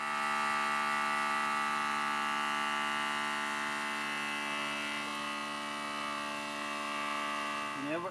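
Small portable air compressor for inflating RV tires running steadily with a constant electric buzzing drone, close and alone, without a break.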